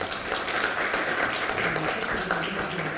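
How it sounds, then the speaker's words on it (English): Audience applause after presenters finish at an academic panel session, steady dense clapping filling the room for the full three seconds with no talk. "let's applaud our presenters"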